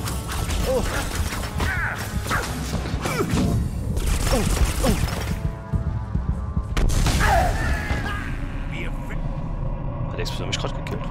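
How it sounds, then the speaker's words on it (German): Explosions and crashes go off during play in the Harry Potter and the Deathly Hallows Part 2 video game, several loud booming hits in a cluttered stretch of game noise, with people talking throughout. "Hat der Explosion mich gerade gekillt?"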